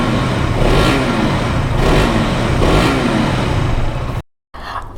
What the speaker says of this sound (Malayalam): ചെറുതായിട്ട് ത്രോട്ടിൽ കൊടുക്കുവാണേ.